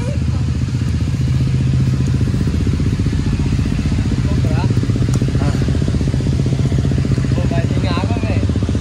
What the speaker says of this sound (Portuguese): que, que o Nico tá ligando a moto?